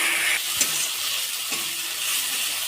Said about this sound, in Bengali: এই সব মশলা একসাথে ভালো করে কষিয়ে নেব।